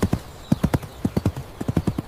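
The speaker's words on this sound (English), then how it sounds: "The horse is running across the field." A horse runs across a field, its hooves clip-clopping in a brisk, rhythmic pattern of grouped beats. The footfalls are close, loud and distinct over a faint background hiss.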